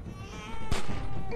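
In The Walking Dead video game, an infant wails in thin, wavering cries beneath a firefight, with a sharp gunshot cracking through partway.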